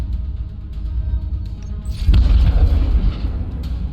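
A torpedo fired from a spaceship in a space combat game lands as a single deep boom about halfway through, rumbling on afterward over a quiet low hum.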